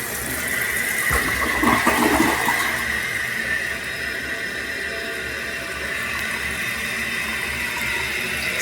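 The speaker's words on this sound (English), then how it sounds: "Now that it's full, we'll do a test flush." A test flush on a toilet just repaired with a new flapper: a loud whooshing surge of draining water peaks early, then settles into a steady running refill hiss with a faint squeal.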